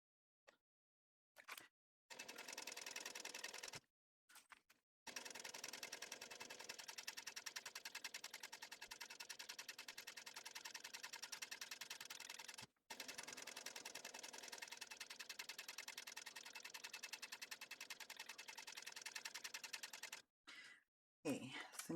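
Domestic sewing machine top stitching a zipper gusset on a custom fabric laptop bag, running in long steady bursts with short pauses between them.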